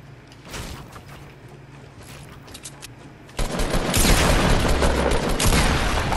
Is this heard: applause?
no